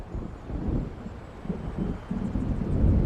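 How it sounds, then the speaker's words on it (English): Low rumbling thunder of an approaching storm in the video game Alan Wake Remastered, rolling in waves and swelling louder toward the end with a windy background. "It seems there's a storm coming."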